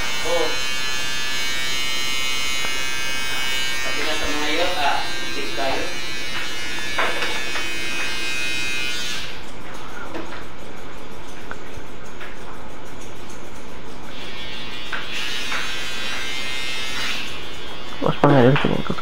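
Barber's electric clippers buzz steadily and close throughout, removing leftover hair during a low fade haircut, with the pitch shifting as the blades move and a voice talking over the hum.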